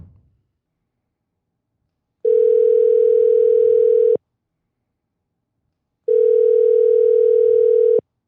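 A telephone ringback tone while a call to a podcast guest connects: two loud, steady two-second tones separated by a long silent gap, alone with no talk.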